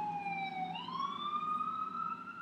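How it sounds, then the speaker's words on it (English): A wailing emergency siren sweeps upward in pitch, somewhat distant, over a steady background hum of traffic. "Thank you, sirens."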